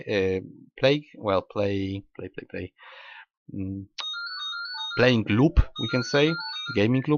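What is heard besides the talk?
phone ringtone ringing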